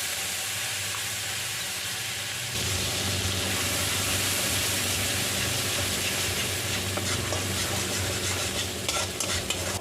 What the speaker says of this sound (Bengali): মশলাটা নেড়ে চেড়ে নিচ্ছি